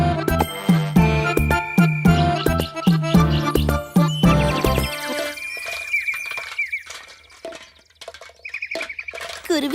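A small cartoon bird (kuruvi) chirps and squawks in quick bright bursts over jingly cartoon music, with tinkling effects and sparse high calls trailing off afterward.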